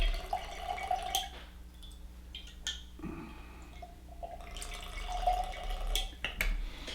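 Whisky poured in measured amounts into a glass: close trickling and dripping liquid in short bursts separated by pauses, with light glass clinks.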